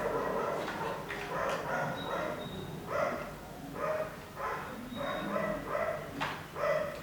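Several dogs bark and yip excitedly nearby, a run of overlapping barks with whimpers coming in bursts over a steady background hum.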